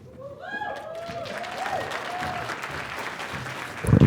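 An audience at a community conversation event bursts into loud, sustained applause, with a few whoops and raised voices rising over the clapping early on.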